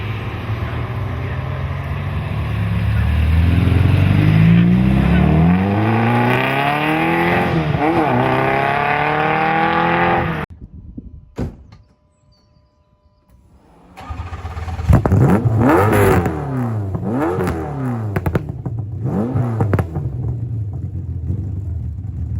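A hand-built, high-revving TVR Cerbera V8 revs hard and loud, climbing through rising sweeps before cutting off into a brief near-silence, then roaring back with sharp repeated rev blips.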